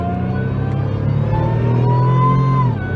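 A Pontiac engine revs hard through a restrictive exhaust close to the headers, short of full throttle, its steady loud roar rising in pitch and holding before dropping off near the end.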